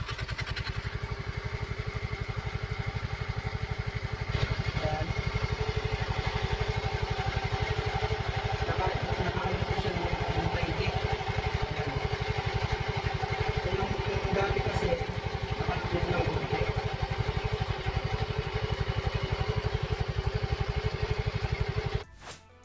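A Yamaha Mio i 125 scooter engine runs steadily after a primary gear oil seal repair, giving a continuous close pulsing putter with mechanical clatter that holds throughout and cuts off at the very end.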